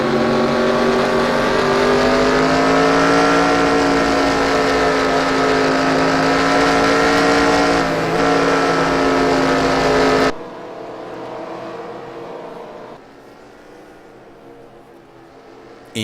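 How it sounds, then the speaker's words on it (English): Gen 6 stock cars roll off pit road at Kansas, their engines forming a loud, steady, multi-layered droning hum. About two-thirds of the way through, the roar drops abruptly to a quieter, more distant rumble. "So cars roll off the pit road now."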